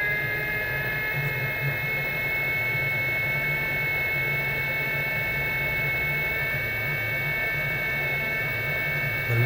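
A newly installed 800 cc car engine runs steadily at idle during a workshop test, giving a constant close mechanical hum with a high whine and no speech.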